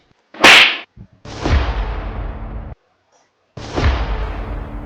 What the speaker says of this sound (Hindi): थप्पड़ मारने से पहले कुछ तो सोच लिया होता।